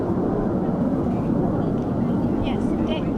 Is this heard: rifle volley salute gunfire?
no